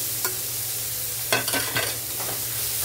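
Tomato is stirred into sizzling ginger-garlic paste in oil for a coconut jackfruit curry. A steady frying hiss runs throughout, broken by a few quick, close scraping stirs.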